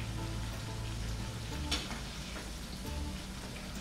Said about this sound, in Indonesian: menggoreng ini tidak perlu terlalu lama ya